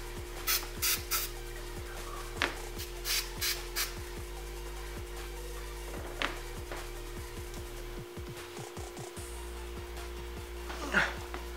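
Adhesive sprayed from a can during a car shift boot and e-brake boot install: several short hissing bursts come early, then a few more later, over faint handling noise and a low background hum.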